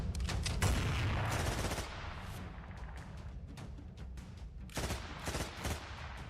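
A volley of rapid gunshots at a busy crossroads, as a man jumps off the back of a motorbike and fires on two men. Loud, close cracks burst out early, then quieter shots follow, with a final cluster near the end.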